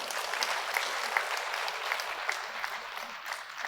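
A lecture audience at a city hall talk applauds, a dense, even wash of many hands clapping steadily for several seconds, moderately distant with no voices.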